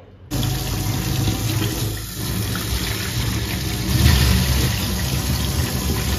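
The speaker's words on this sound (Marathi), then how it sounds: "मी दोन्ही वाट्या नळाखाली धरल्या होत्या" Tap water runs loudly over steel and clay bowls held beneath the faucet, a continuous close rushing stream that swells briefly partway through, with no talking.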